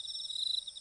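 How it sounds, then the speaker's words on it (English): Crickets chirping at night in the horror video game Corpse Party, a steady high shrill drone held evenly and faintly throughout the short stretch. "these crickets were so freaking annoying"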